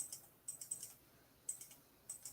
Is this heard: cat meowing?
no